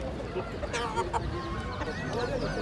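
Chickens and roosters at a Turkish poultry market cluck and squawk in a busy, overlapping jumble amid crowd murmur and nearby voices talking.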